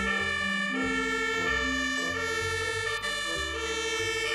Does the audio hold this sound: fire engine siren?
yes